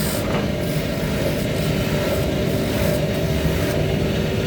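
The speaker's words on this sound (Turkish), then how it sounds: "Evet parlamış zımpara, kabzeye zımpara yapıyor." Continuous abrasive rasping of sandpaper rubbing against a knife handle, steady and close, with a faint mechanical hum beneath.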